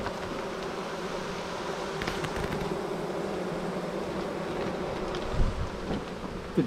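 Honeybees hum steadily around an open hive, a dense, continuous close buzzing with a few louder passes by the microphone.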